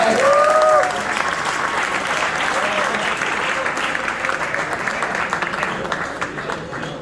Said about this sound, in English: Everybody give a round of applause for Berel Solomon.